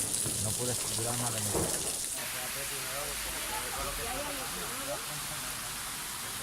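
Heavy rain falls in Rome, a steady broadband hiss that continues throughout while a person speaks over it.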